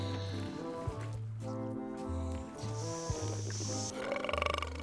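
Cartoonish burps and belches from Return to Monkey Island sound in short, tonal bursts of varying length, a string of about eight gurgling blurts, moderately loud against a quiet background.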